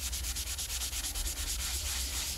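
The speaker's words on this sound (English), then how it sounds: "you can very, very easily rub your drawing down." A chamois cloth rubbed briskly over a charcoal drawing on paper, giving a close, continuous rhythmic scrubbing with quick regular strokes, heard alone.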